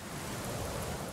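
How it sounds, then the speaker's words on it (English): Rainfall in The Legend of Zelda: Ocarina of Time, a steady, even wash of broadband hiss at moderate level with no talk over it. "And now it's raining."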